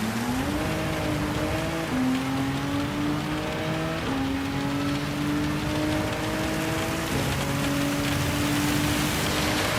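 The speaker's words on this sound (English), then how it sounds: "Some more heavy rain." Heavy rain falling steadily throughout a Gran Turismo 7 race, with a continuous hiss mixed with a droning car engine whose pitch steps up through several gear changes.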